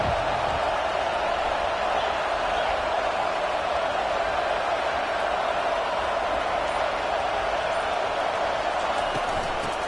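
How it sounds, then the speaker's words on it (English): Crowd noise fills a stadium in the NCAA 25 college football video game during a Clemson game, a dense, constant roar that holds steady throughout with no commentary over it. "Listen to the crowd energy here in the early going."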